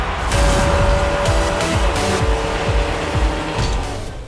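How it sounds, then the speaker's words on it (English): Revving car engines and squealing tires from the Rocket League video game, loud and continuous, with bursts of acceleration and skidding screeches layered over a steady roar. "The sounds of revving engines, screeching brakes and a computer-generated fanbase can mean only one thing: Rocket League"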